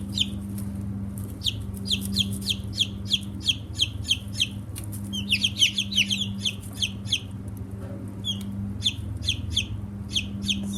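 Newly hatched chicks peep and cluck in rapid, overlapping bursts, close by and fairly steady, over a low constant hum of brooder or room noise.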